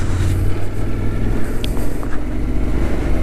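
A motorcycle being ridden, short-shifted to stay under its roughly 6,500 rpm rev limit, gives a steady, loud, close engine drone with low rumbling harmonics throughout, and no one talks.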